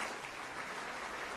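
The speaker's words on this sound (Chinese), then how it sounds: "掌声有请。" Audience applause in a hall, a dense even wash of clapping from many hands, steady and moderately distant for the whole short moment.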